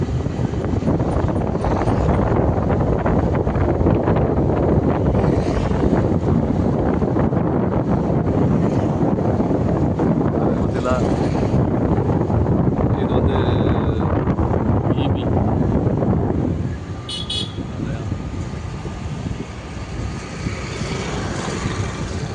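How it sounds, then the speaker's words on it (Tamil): Strong wind buffets the microphone in a continuous roar, easing slightly near the end while a faint tone briefly rises above it. "இந்த நேரத்தில் இதமான காற்றுகளும் அழகாக வீசிக்கிட்டே இருக்குது"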